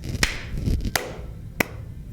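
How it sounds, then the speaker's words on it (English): A few sparse, weak hand claps at a casual talk session, three sharp, isolated snaps spread over about two seconds, with a low murmur of room noise in between. "Pretty weak clap"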